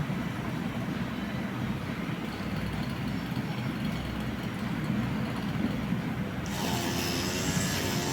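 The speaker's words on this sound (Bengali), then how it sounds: "কোম্পানির মধ্যেই কত সুন্দর মেশিন দিয়ে ঘাস কাটছে" A motorized grass-cutting machine works through the grass of a palm plantation on company grounds in Malaysia beside a highway, giving a steady, unbroken engine drone that turns brighter and harsher near the end, with no talking.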